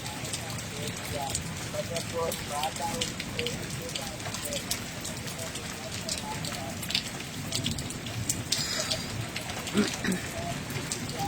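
Steady rain falls over a residential area in Wah Cantt during the monsoon, heard from beneath a shade as a continuous broadband patter with scattered drip accents and faint birds in the background.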